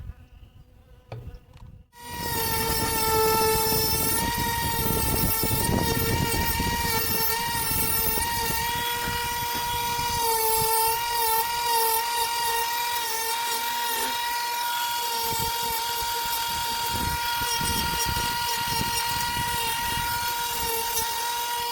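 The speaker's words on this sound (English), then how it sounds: "I'm just going to take the slant of my dovetail burr and just work the nose," A high-speed rotary tool with a dovetail burr carves the nose of a wood spirit face, starting after a brief pause and then whining steadily and loudly, with pitch dipping and rasping bursts as the burr bites the wood.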